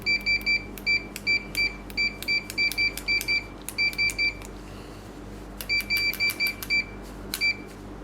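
A Fluke 289 multimeter on continuity mode gives repeated short, bright electronic beeps in quick bursts as the probes touch a short, with brief gaps between groups and low hum underneath.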